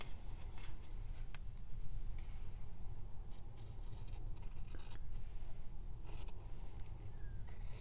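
Scissors cutting through fabric up close, producing repeated crisp snips and scraping rasps in an irregular rhythm, fairly quiet over a low background rumble.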